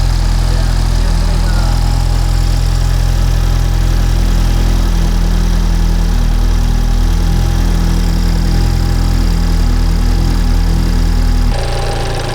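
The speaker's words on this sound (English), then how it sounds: "So at idle, it really doesn't sound that terrible." A BMW 328si with an N20 engine, suffering catastrophic damage, idles steadily close to the microphone, a loud continuous low rumble that cuts off near the end.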